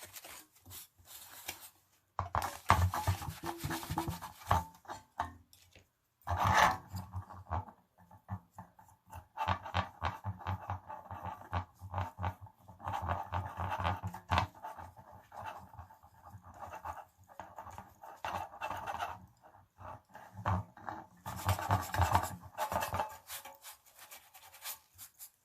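Paint being rubbed off a metal pumpkin yard sign, a soft scratchy rubbing in repeated close strokes with short pauses, fairly faint and without talk.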